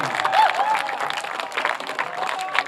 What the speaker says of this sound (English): Round of applause for Charlie Company.